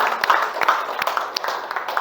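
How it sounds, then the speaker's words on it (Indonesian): A small classroom audience gives scattered, uneven hand claps. The claps are light and sparse, and low chatter runs underneath. "Beri tepuk tangan."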